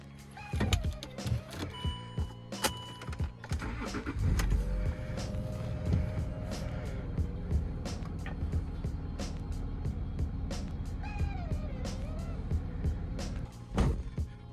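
A Land Rover Discovery 3 with nearly 10,000 miles covered in two weeks drives along, a steady engine and road drone filling the cabin with a few clicks and whining tones rising over it.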